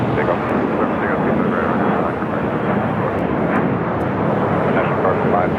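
An airliner takes off from runway 25 right at Los Angeles International Airport, its engines producing a loud, continuous broadband roar that holds steady throughout.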